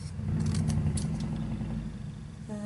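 Scissors snip through paper at close range, giving a few quick crisp cuts followed by a short scrape, with a low engine-like hum running underneath.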